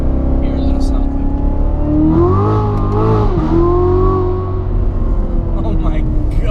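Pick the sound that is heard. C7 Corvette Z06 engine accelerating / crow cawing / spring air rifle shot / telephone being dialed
C7 Corvette Z06 engine accelerating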